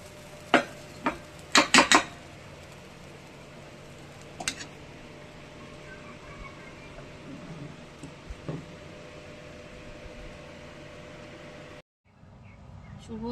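Metal cutlery and plates clink sharply in a quick cluster, then a few more scattered taps follow as hot rice is served onto a plate, with a soft room hum between the sounds.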